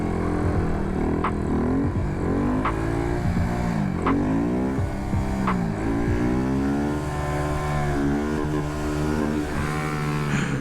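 A motorcycle engine revs hard and repeatedly while wheelies are ridden, the pitch rising and falling in a steady cycle of throttle bursts. It is loud and close, with no talking.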